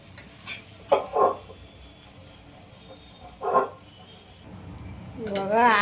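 Aloo paratha fries in oil on a pan with a low, steady sizzle close by, while brief bursts of a voice come in over it now and then.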